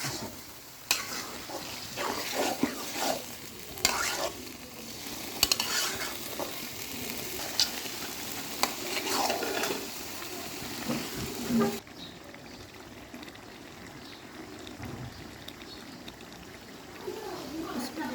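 Chicken curry with ground spices sizzles and spatters in a hot pan over a clay stove, a crackling hiss with scraping stirs, then it settles to a quieter simmer. A voice can be heard faintly underneath.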